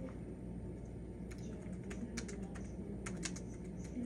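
Fingers type on a computer keyboard, giving irregular bursts of crisp key clicks over a steady low background hum.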